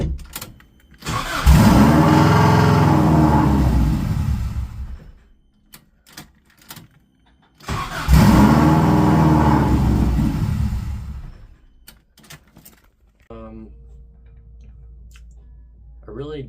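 A drift car's engine turns over and catches, revving hard twice in long loud bursts with short quieter idle gaps between them, then dropping to a low idle at the end.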